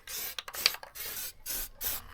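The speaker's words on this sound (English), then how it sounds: "so we got high temperature adhesive spray. And this one, how it works, you have to spray both surfaces" High-temperature adhesive from an aerosol can is sprayed in several short hissing bursts separated by brief pauses, close and fairly quiet.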